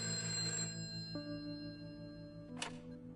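A telephone rings during a prison phone call in the video game A Way Out, with sustained tonal ringing that cuts off, then a second short bright tone, all fairly quiet with no talk.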